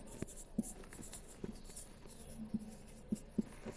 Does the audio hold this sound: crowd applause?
no